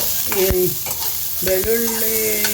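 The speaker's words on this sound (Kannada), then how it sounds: "ಅರ್ಧ ಸ್ಪೂನ್ ಎಣ್ಣೆ ಹಾಕ್ಕೊಂಡು ಇದನ್ನು ಹುರ್ಕೋಬೇಕು" Masala dosa filling fries in half a spoon of oil in a pan, a loud, close, continuous sizzle broken by a spoon stirring and scraping against the metal, with brief squeaky scrapes.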